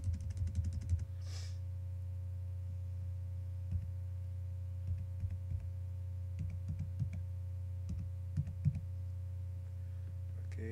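A computer keyboard is used to type in a network password. Soft, scattered key clicks come in short bursts over a steady low electrical hum, close by and fairly faint, with no talking.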